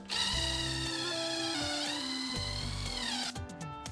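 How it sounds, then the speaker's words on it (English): An impact drill drives a bit into a hole while building a table saw, running with a steady whine that shifts pitch as it bores, then briefly sputters near the end; faint and close, with no talking. "You then take the drill bit with an impact drill."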